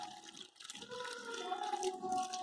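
Water is poured into a pot of jackfruit for cooking, a continuous trickling, filling stream with rising gurgling tones, fairly close and moderately quiet.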